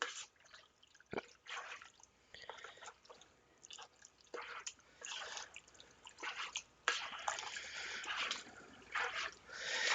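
Noodle casserole for an Easter side dish is stirred with a spoon, giving soft wet squelches, sticky clicks and scrapes in an uneven rhythm, close and fairly quiet.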